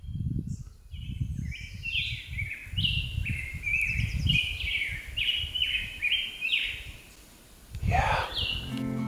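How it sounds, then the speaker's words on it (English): Birds sing in a steady run of bright, rapid chirping phrases along Harris Wash in Utah, clear and fairly close, while low thumping footsteps or rustling continue beneath them. "listening to the birds"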